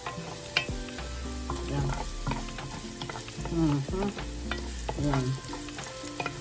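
Garlic and onion sizzle steadily in a hot frying pan while a utensil stirs and scrapes, close and continuous, with a voice speaking briefly over the cooking.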